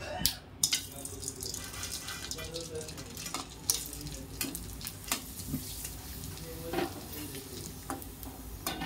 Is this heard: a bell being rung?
no